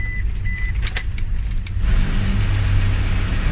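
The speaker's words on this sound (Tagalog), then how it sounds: "Unang-una dyan, gagawin ko ay start ko yung engine." A Toyota Fortuner engine is started: a brief jangle of keys and clicks, then the engine catches and settles into a loud, steady low idle close by.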